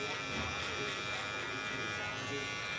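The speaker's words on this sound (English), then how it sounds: "We will be featuring that all new Instinct shaver." An all-new Instinct electric shaver buzzes steadily and close at a barbershop, a continuous high whining drone with no breaks that holds for the whole few seconds.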